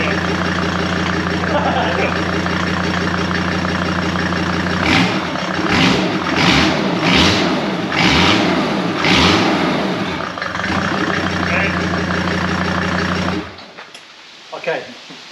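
A rebuilt Mercedes OM605 turbo diesel engine, freshly swapped in, cranks and fires up, then runs with a steady loud clatter before cutting off near the end.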